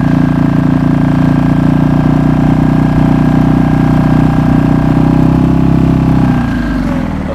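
A Suzuki DF 2.5 outboard motor idles at its lowest throttle with a loud, steady, buzzy putter close by. Near the end the note drops and fades slightly as the engine slows.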